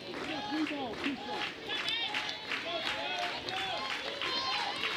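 Softball stadium crowd at McWhorter during Florida State versus Clemson, cheering and clapping in a murmuring swell with individual voices calling out, moderately distant and steady.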